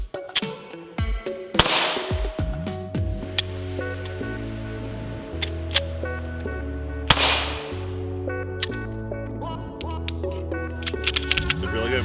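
An FN 509 CC Edge pistol fired at a range, including shots from the draw: a dozen or so sharp, loud cracks at irregular intervals over a steady tonal hum.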